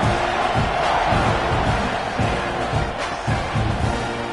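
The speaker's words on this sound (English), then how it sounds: "this crowd now ready to get behind them" A packed football stadium crowd at a Texas A&M versus Texas game roars in a dense, continuous wall of cheering and shouting, loud and sustained without a break, with a commentator's voice faintly under it.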